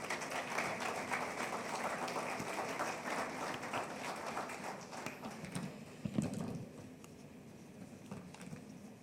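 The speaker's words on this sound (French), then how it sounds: "Première ministre, Madame Judith Souminois, à prendre la parole sous vos applaudissements" Sustained audience applause fills an official ceremony hall as a prime minister is invited to speak, a dense steady patter of many hands clapping, fading slightly toward the end.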